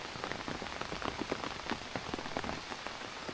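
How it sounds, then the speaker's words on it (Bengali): Monsoon-season rain falls steadily over farmland, a dense, even patter of drops striking surfaces close by, with no voices. "বাট এখন আবার শুরু হয়ে গেছে বৃষ্টি।"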